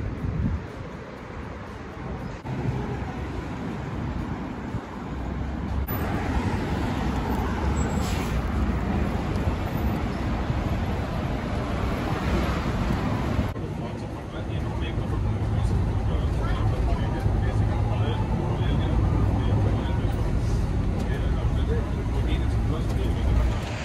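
Steady road traffic rumble from inside a bus, a continuous low engine and road drone with wind noise that swells midway, with muffled voices mixed in throughout.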